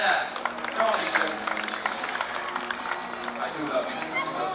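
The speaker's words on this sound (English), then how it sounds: "Put your hands together for Adrian!" An audience at a cocktail party on the Thomson Spirit cruise ship applauds, a dense, lively wash of clapping and cheering with voices talking over it throughout.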